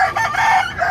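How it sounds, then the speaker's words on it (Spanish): A rooster among poultry at the Canton, Texas flea market gives a short, loud, close crow with no other sounds around it. "Y está otro gallo."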